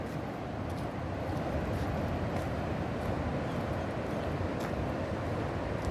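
A waterfall at Thung Kamang savanna in Chaiyaphum, Thailand, makes a steady, dense rushing roar that stays level throughout, with no break and no voices.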